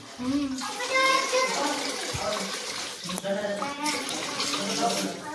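Water streams from a cow-mouth spout at the Godavari river source on the Brahmagiri hill near Trimbakeshwar, Nashik, a constant gushing splash heard close up while people talk over it.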